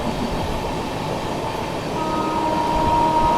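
The Sealdah–New Delhi Rajdhani Express rumbles at speed through Prayagraj Junction, with continuous heavy rail roar and rhythmic wheel clatter heard from on board, plus a faint high squeal near the end.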